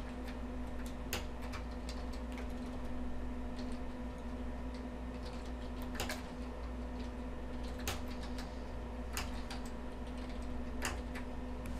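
Typing on a computer keyboard to fill in information, sparse individual key clicks spaced a second or more apart over steady hum and background noise, no talk.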